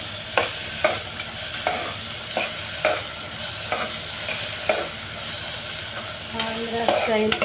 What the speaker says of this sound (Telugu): అందులో సన్నగా తరిగిన ఉల్లిపాయలు పచ్చిమిర్చి అన్నీ వేసుకొని ఎర్రగా వేగే వరకు వేసుకోవాలి.